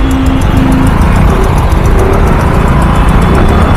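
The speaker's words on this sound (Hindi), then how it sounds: "बहुत ट्रैफिक है यार, लिमिट से ज़्यादा ट्रैफिक है किसी" Heavy road traffic in Delhi, a dense continuous roar of car and motorbike engines with revving and a brief horn-like tone early on, loud and close throughout.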